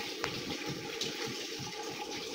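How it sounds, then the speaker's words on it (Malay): Water is poured continuously over a body during Islamic ritual washing of the dead, making a steady gushing splash without pause. It is fairly loud and close, with no voices. "Menyiram mayat dengan air mutlak."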